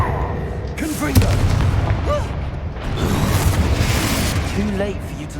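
A Confringo blasting spell explodes in Hogwarts Legacy, a booming burst followed by rumbling, crackling combat noise and a second swell of blast energy, loud and dense throughout, with battle voices mixed in.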